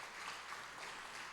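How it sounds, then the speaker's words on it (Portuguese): Applause from a congregation during a church Bible school service fills the space with dense, steady clapping at moderate distance, without talk. "Vamos dar uma salva de palmas para Jesus?"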